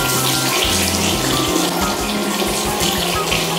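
Tap water runs steadily into a sink as face cleanser is rinsed off, a continuous close splashing flow with no voices.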